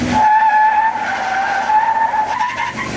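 A 2017 Ford F-150 pickup with a 10-speed transmission launches hard on a track, its tires letting out a loud, sustained squeal that holds a steady pitch for about three seconds.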